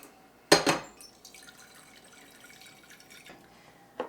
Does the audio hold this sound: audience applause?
no